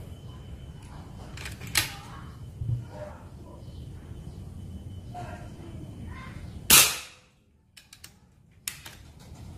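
A sharp PCP air rifle shot cracks loudly, followed by quiet and a few faint clicks; a couple of smaller snaps come earlier amid low background noise.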